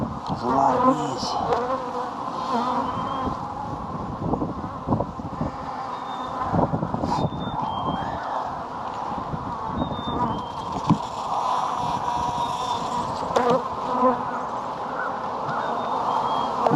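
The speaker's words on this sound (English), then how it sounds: "There's a lot of bees." A dense, steady buzzing of many overwintered Iowa honey bees at an open hive during a pre-spring inspection, close and continuous, with occasional handling noises.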